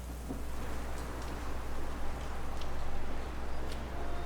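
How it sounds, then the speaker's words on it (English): Steady rain patters densely on surfaces, fairly loud and even, with occasional louder drops and a low rumble underneath. "The rain sound effect is just a little strong"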